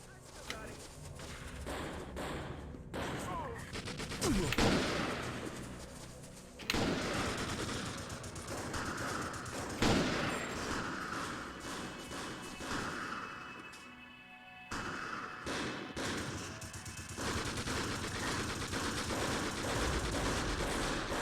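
Gunfire from the video game Second Sight, a pistol among the weapons, crackling in repeated bursts and scattered shots over game music and effects, with voices talking at times.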